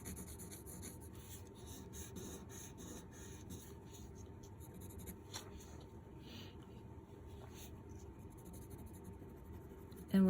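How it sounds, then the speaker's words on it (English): A pencil shades dark lines on paper, a faint, steady, continuous scratching and rubbing that goes on without pause. "I need to add some dark lines here for shading"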